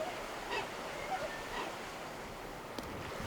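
A Fiordland crested penguin in the Milford Sound fjord gives faint honking calls over a constant wash of surf and wind, the calls thin and distant.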